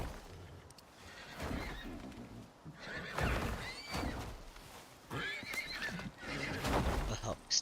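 Neighing horse in the survival video game Icarus, whinnying several times amid clopping hooves and busy game noise, loud and close throughout.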